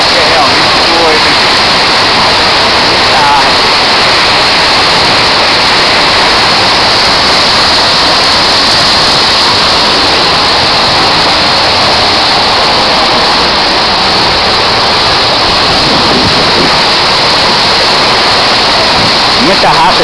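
Heavy rushing water from a waterfall on an adventure trail, a loud, constant broadband roar filling the whole stretch without pause.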